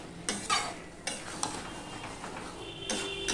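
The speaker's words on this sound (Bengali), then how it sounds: "ধনেপাতাটা দিয়েও আমি ভালো করে মিশিয়ে দিলাম।" Spoon stirring coriander leaves into a frying chickpea and vegetable curry in a pan, a few scraping strokes and light clinks over a soft continuous sizzle, close and fairly quiet.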